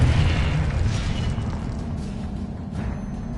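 Confringo blast spell in Hogwarts Legacy on PS5, a loud low boom that rolls and decays into a rumbling tail with faint crackles over the next few seconds.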